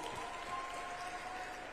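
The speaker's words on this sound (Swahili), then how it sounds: "Makofi kwa watumia kitonga wote." Audience applause at a technology conference in Dar es Salaam, Tanzania: a steady, dense wash of clapping from a large crowd that holds at an even level throughout, with no voices standing out.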